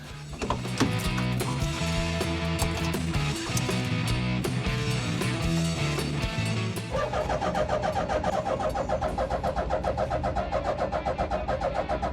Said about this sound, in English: now I think it is time I can try the first start on the car